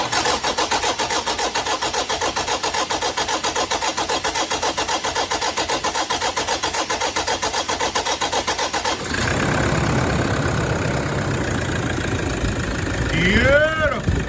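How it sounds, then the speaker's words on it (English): A car engine with newly installed fuel injectors cranks in a fast rhythmic churn for about nine seconds, then catches and settles into a running idle, with a brief rev near the end. "this is what it should sound like after the injectors when you go to crank it"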